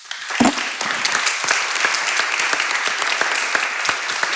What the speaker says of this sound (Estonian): tõesti suur aplaus veel teile